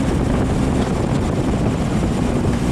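A vintage VW rail buggy engine drones steadily in third gear with a close-ratio gearbox and 486 ring and pinion, moving slowly over a rough road, as a loud, continuous low rumble with wind buffeting throughout and no break.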